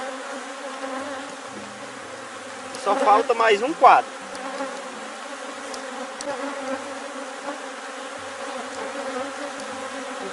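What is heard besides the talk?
bees buzzing on a hive frame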